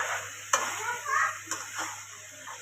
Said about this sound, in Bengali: এই যে এখন হচ্ছে পেঁয়াজের কালি দিয়ে দেওয়া হইতেছে বেশি করে।